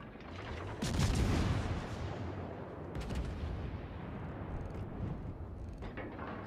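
Naval gunfire in World of Warships: Legends, with a heavy booming salvo followed by a rumbling roll and a second, lighter volley, all dense and loud with no voices.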